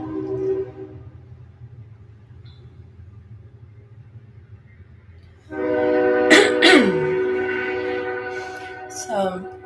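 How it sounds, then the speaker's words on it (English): A train rumbles by nearby and then grows louder as it passes, with its horn blasting in a few strong, sustained honks over the rolling noise. "here comes our train"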